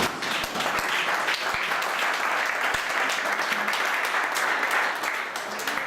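A church congregation applauding the Lord during a service, a dense, steady wash of many hands clapping at close range throughout, with brief louder claps standing out.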